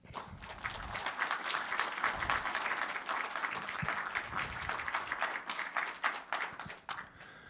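An audience at an inaugural meeting breaks into sustained applause approving the first president, dense clapping that runs loud and steady for several seconds before thinning slightly at the end.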